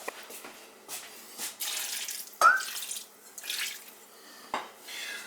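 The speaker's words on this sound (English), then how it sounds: "Gonna add a little bit of water to it" Water is added to a crockpot in several short pours and splashes, close by, with gentle sloshing and clinks of the pot between pours.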